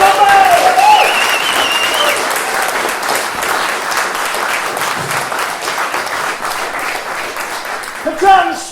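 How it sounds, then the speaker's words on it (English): A theatre audience gives a round of applause for the Love Letters Ensemble, a dense, sustained burst of clapping from many hands that swells at first and then gradually fades, with a few voices cutting through near the end. "let's have a round of applause for Love Letters Ensemble!"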